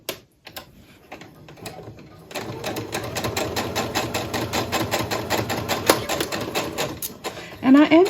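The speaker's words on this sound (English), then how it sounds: "now I'm just going to sew that seam together" A sewing machine with a 1/4 inch foot at stitch length 2 stitches a quilt seam for a pumpkin table runner, giving a steady close mechanical patter for several seconds after some quiet handling.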